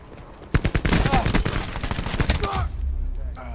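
Tempest weapon in a video game firing a rapid burst of sharp, loud shots in quick succession for a couple of seconds, then trailing off into game ambience.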